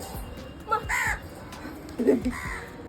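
Crows caw a few times, harsh calls rising over faint background noise outdoors, not far off.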